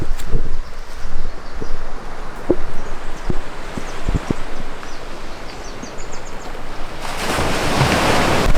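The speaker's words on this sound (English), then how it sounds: "Going to sleep to the sound of the ocean was pretty special" Ocean waves wash onto the shore of an island in Guinea-Bissau at night, a steady rushing surf with gusts of wind buffeting the microphone and a louder surge of water near the end.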